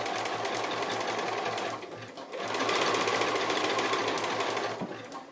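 A sewing machine zigzag stitches over the join at the centre of a small fabric coiled bowl made from strips, running steadily and close, then pausing briefly before resuming a fast continuous buzz.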